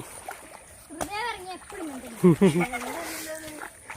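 A child wades and splashes through water, sending splatters and ripples near and clear, while a voice and other voices chatter over the top.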